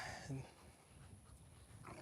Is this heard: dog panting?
yes